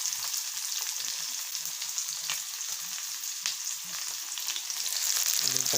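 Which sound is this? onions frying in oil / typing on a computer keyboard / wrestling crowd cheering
onions frying in oil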